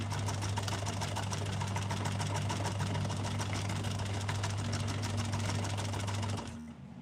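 A sewing machine stitches in one fast, steady, close mechanical run for about six seconds, then stops abruptly, leaving a quieter hum at the end.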